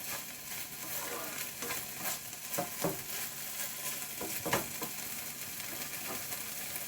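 Bacon and spring onion frying in a pan sizzle steadily up close, while a utensil stirs and scrapes them in several distinct strokes over the hiss.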